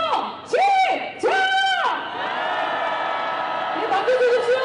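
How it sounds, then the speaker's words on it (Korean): Protest crowd shouting outside the APEC summit in South Korea, a mass of voices raising a long, loud cry in two big surges followed by a sustained roar that swells again near the end. "미국과 트럼프를 규탄하는 함성 시작!"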